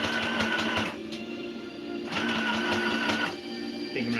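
A sewing machine stitches a Santa costume in bursts, its rapid mechanical whirr running for a second or so, pausing briefly, then resuming, loud and close with no talking.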